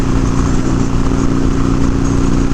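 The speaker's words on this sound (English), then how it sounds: "you can probably hear the exhaust right now too" A Harley Sportster 1200 with slip-on exhaust cruises at highway speed, its engine a continuous loud low drone at steady revs, mixed with rushing wind noise throughout.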